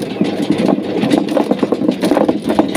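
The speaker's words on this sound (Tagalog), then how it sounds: "Yan, umiikot yung makina" A motor drives a homemade chicken plucker whose drive belt is loose, a steady close mechanical whir with a rapid, uneven rattling pulse and no talk.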